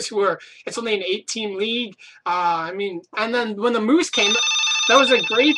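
A telephone rings with a bright, repeating electronic tone that enters late and overlaps someone speaking.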